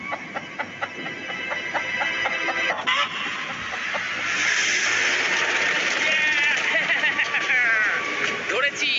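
A chicken just caught on an island clucks and squawks in bursts, close and fairly loud, with voices and other sounds running underneath.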